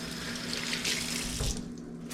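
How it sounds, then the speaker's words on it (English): A kitchen tap runs as dirt is rinsed from a sponge, a close, steady splashing gush with slight shifts in flow, lasting about two seconds with no voices. "Now, I'm going to rinse that dirt off of my sponge"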